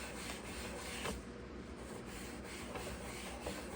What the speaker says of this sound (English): see if we can get this sticky residue off